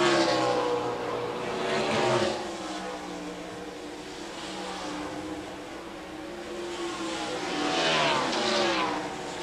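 Race cars lapping Watkins Glen during the 2000 Global Crossing at The Glen, engine notes rising and falling as cars pass in waves, loud and continuous over distant broadcast ambience.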